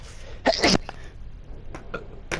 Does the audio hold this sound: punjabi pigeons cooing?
no